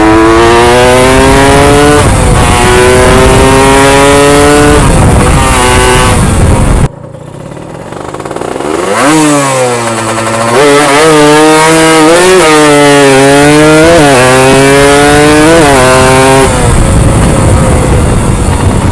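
A Suzuki Satria Hiu motorcycle revs hard and loud, its engine note climbing repeatedly through the gears, cutting off sharply midway before building back up in a series of rising and falling surges.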